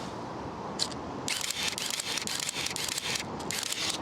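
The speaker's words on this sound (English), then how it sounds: "once you're in continuous shutter mode, it'll shoot up to 2 frames a second" A Minolta 7000 SLR shutter fires repeatedly in continuous drive at up to 2 frames a second, a rapid run of crisp clicks close up, pausing briefly before another burst.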